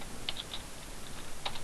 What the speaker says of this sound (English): I just start typing their names here